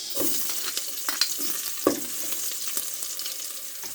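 Ginger and onion hit a little hot oil and crackle with a steady sizzling hiss, while occasional spatula scrapes and knocks sound close by.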